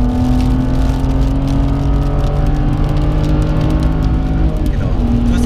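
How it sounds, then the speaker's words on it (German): Car on the Nürburgring racing circuit accelerating hard through the gears, a loud, continuous engine drone with steady climbing tones and heavy road and wind roar, heard from inside the car. "jetzt kannst du da Gas geben, im vierten Gang hochschalten"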